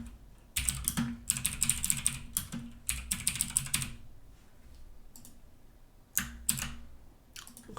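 Computer keyboard typing in bursts of rapid key clicks, several runs of keystrokes separated by short pauses, close and clear with no talking.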